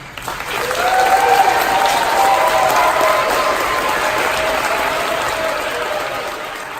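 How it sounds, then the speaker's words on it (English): A crowd at the Yale University Pathways to Science Summer Scholars outdoor ceremony gives the scholar students a loud, sustained round of applause, the clapping rising quickly and then holding broad and even with a faint cheer-like tone on top. "please join me in giving a very loud round of applause to our Scholar students"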